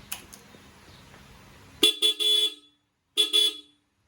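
A dual-tone horn on a Yamaha R15 V3 motorcycle sounds in short bursts: three quick honks, a pause, then two more, loud and bright against a quiet background.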